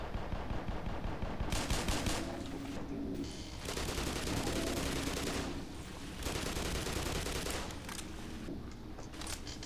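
Rapid pistol gunfire in Black Mesa, loud sharp shots fired in quick bursts with brief gaps, over a busy game soundscape.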